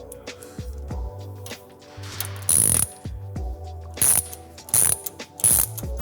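Ratchet turned in quick bursts to loosen the collar on the rail of a New Tech Machinery SSQ II roll-forming machine, giving rapid clicking pawl strokes with metallic scraping, close and loud, in several short repeated runs.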